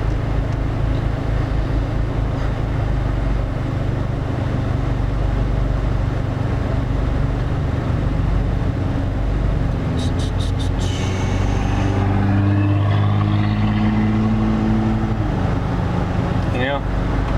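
A 2015 Subaru Legacy with its muffler deleted idles at a red light at a busy intersection, a loud, steady low exhaust drone running throughout, with a voice talking over it.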